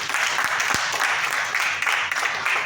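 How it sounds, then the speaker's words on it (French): Audience at a talent-show preselection evening for a festival applauding loudly, a dense, continuous wash of clapping for a few seconds without speech. "Donc ça s'applaudit très très fort."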